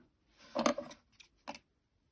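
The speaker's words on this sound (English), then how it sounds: "get my scissors, make a little slit, make sure you don't cut all the way through" Scissors make a small slit in fabric for a buttonhole: a few short, crisp snips close by, with a brief pause between the first cut and a later single snip.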